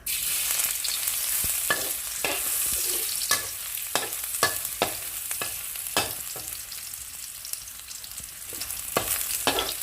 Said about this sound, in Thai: เราจะเจียวกระเทียมก่อนนะคะ